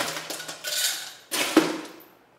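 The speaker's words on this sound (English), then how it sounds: "And then we'll put the second layer of our ice." Ice cubes tumble into a glass while a layered three-tone drink is built, a close clatter of clinks and knocks in two bursts with a sharp clink near the end, and no talk.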